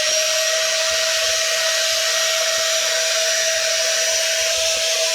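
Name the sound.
brushed cordless vacuum tool switched on and running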